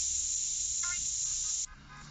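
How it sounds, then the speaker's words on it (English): Spray paint can hissing in GTA San Andreas, a steady, loud airy spray lasting about a second and a half before cutting off, over low game background noise. "Here, we spray a paint can."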